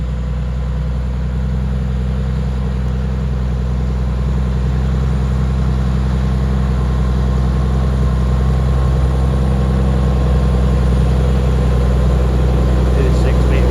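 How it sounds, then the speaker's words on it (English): A Caterpillar tractor engine idles with a deep, steady low rumble that stays constant and loud throughout, with no noticeable change in speed, and a voice speaking faintly over it. "The cat engine purring away."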